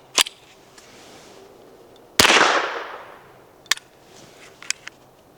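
A single sharp, loud crack from a .22LR pistol with a brief ringing tail, set among a few quieter metallic clicks and clacks of handling before and after.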